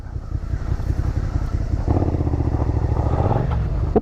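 A 2017 Suzuki SV650 motorcycle making a U-turn on a dirt path idles with a low putter, then its engine note rises as the throttle opens, loud and close, with no voices.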